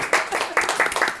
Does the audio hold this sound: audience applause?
yes